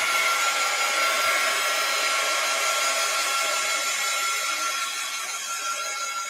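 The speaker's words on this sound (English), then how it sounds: "I've got to find my heat gun" A heat gun blows a loud, steady, unbroken whirring roar from start to finish as it dries sepia ink on an art journal page, with no voices.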